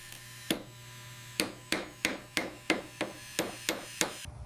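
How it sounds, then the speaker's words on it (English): A micro hammer taps tiny pins into the steel junctions of a model bridge frame: about ten sharp, close metallic clicks in an uneven rhythm over a steady low hum. "Tiny pins are hammered into the junctions using a micro hammer."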